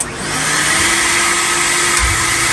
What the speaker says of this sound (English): I just want to show you kind of my style of roughing out a body on the bandsaw, especially cork body.